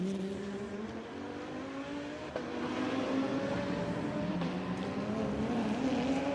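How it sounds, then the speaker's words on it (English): DTM racing cars at the Norisring street circuit during free practice, engines roaring at full throttle with tones that climb and fall as they pass, a steady, fairly distant wash of race-car noise. "the sounds of these racing cars"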